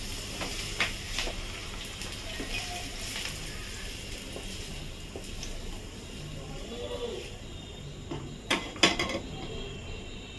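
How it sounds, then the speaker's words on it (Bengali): Fried onions being moved from a pan into another pot: quiet scrapes and clinks of a utensil against metal over a faint sizzle, with a few sharper knocks near the end. "এবার আমি অন্য একটা পাত্রে পেঁয়াজটা নামিয়ে দেবো।"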